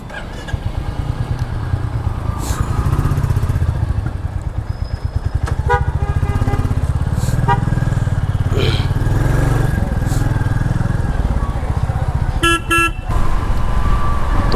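A new Royal Enfield Classic 350 rides through traffic during its break-in period, with a steady loud engine drone under scattered car and vehicle horn toots from nearby traffic.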